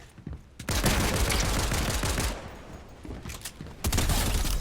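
Rifle fire in the Fortnite video game comes in loud, close bursts of rapid shots, a long volley followed by shorter bursts and a final sharp shot, with no voices over it.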